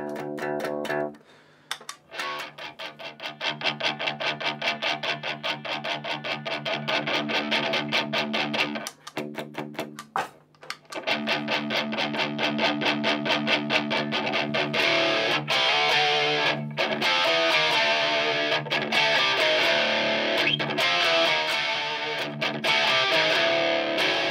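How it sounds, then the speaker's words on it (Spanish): An electric guitar plugged through a distortion pedal into the clean channel of an amplifier plays sustained, thick, saturated chords and riffs, loud and continuous with a few brief breaks, with no talking. "he conectado el pedal de distorsión, la guitarra al pedal de distorsión y el pedal al input del amplificador"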